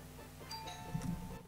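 A doorbell rings with a short, fairly quiet chime made of a few clear tones, heard on its own with no voices.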